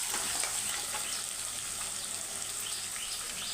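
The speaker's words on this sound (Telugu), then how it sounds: "మంచిగా వేగాలి. మంచిగా వేస్తే" Chopped onions frying in oil in a pan for poha upma, a steady close crackling sizzle that holds evenly throughout with faint chirping in the background.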